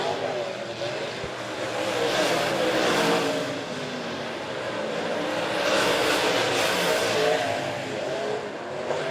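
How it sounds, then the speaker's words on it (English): Race cars at Monett Motor Speedway roar steadily on a dirt oval as the number 21 burns off its tires, engine drone rising and falling in two swells with a distant crowd-like wash beneath. "You can see the smoke flying from the 21 as he's burning off them tires."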